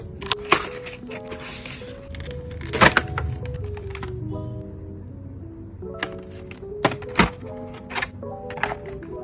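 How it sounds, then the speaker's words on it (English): Keys clack on a Lofree Rose Gold mechanical keyboard in scattered bursts of sharp, close clicks, set over soft background music. "Mechanical keyboard."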